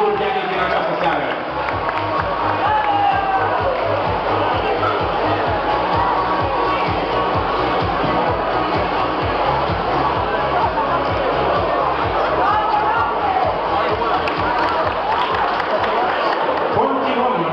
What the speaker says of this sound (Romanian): Aplauze pentru medicul pianist din această seară.